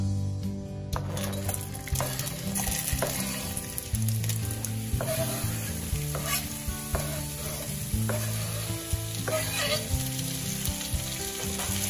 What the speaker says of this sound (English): I'm going to fry them up in this skillet